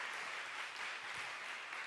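Applause from a church congregation at a young adults' Sunday worship service, a steady dense clapping that fills the room without a break and sounds fairly distant.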